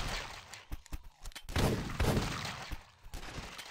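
Shotgun blasts from the flash game The Last Stand: a few sharp bursts with scattered clicks, louder booming shots near the middle, fairly quiet overall with no talking.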